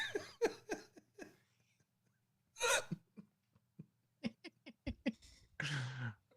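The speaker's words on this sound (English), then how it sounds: "Your hiccups are so adorable." A person hiccups repeatedly at close range: short sharp bursts come in uneven clusters with quiet gaps between them, mixed with small breathy sounds.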